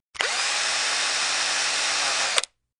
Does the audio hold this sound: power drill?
yes